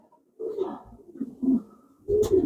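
Blue pigeons kept in a loft coo close by, giving several soft, throaty calls in quick succession that are quiet and heard alone.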